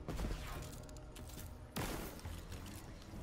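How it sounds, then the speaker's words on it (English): Grenade blast in Destiny 2 gameplay: two sharp explosive bursts, one early and a louder one midway, each trailing into crackling debris and gunfire-like noise, set against steady game ambience. "I'll throw a grenade in there"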